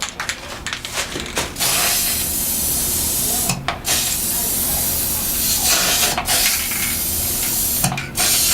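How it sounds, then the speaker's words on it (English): A can of wall texture sprays white flocking onto a Christmas wreath, a loud continuous hiss interrupted by a few brief gaps as the nozzle is released, all close up and with no talking over it. "As much as I love this spray, it sprays a lot."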